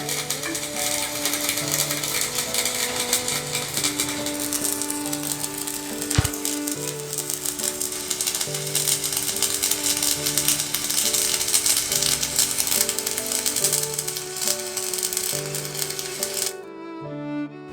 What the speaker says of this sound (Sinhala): දැන් ඇම්පියර් 110 වෙල්ඩින් කරලා බලමු.